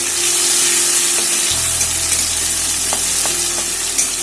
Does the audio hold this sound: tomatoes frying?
yes